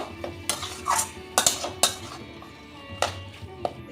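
Metal spoon scraping and clinking against a pan while taro leaf curry with ground fennel and bay leaf paste is stirred, a series of sharp clanks and scrapes, close and moderately loud, no talking.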